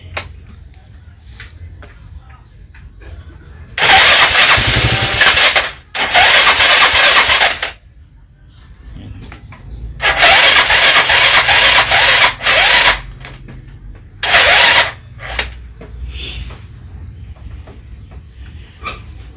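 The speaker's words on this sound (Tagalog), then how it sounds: "Hanggang redondo lang siya, hindi siya umaandar." Yamaha Mio 110cc carburetor scooter engine cranking without starting, loud bursts of starter grinding in repeated attempts separated by pauses.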